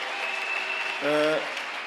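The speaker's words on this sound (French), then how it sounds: "Let's clap our hand for Congo." An audience at an international conference inauguration claps steadily and loudly for Congo, a dense even patter that swells briefly while a voice sounds over it.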